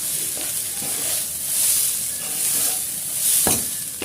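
Uncooked rice sizzles in a hot pan while being fried for bhuna khichuri. A continuous crackling fry swells and eases in waves as it is stirred, with a few sharp scrapes and clinks from the utensil.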